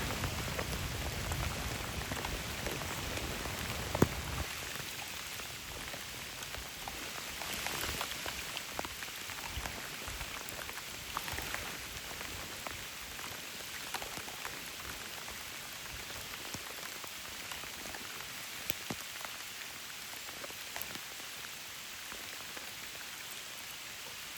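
Rain falls steadily on the water and surfaces around a kayak in a forest setting, a dense, even hiss of drops with occasional sharper taps, soft and continuous for the whole stretch, with no talking.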